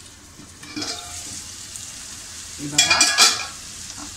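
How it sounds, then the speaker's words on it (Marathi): Capsicum cooks on a tawa for street-style tawa pulao, a soft sizzle with two short bursts of stirring and scraping, the louder one near the end, while a voice speaks briefly. "आता आपण हे 2 मिनिटं झाकण लावून ठेवूया, म्हणजे आपली शिमला मिरची त्यामध्ये पटकन शिजून येईल."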